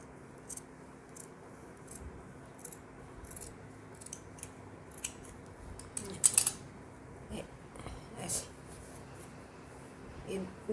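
Scissors snip through fabric to shape the neck opening of a baby jhabla garment, a series of quiet, irregular cutting clicks and rustles, close and faint, with a voice speaking in the background.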